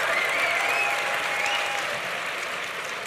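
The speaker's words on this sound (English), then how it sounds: "I think those must be the undergraduates clapping." Undergraduate audience at an Ohio State University lecture applauding in a steady, dense wash of clapping that holds at full strength throughout, with a faint high whistle-like tone drifting over it.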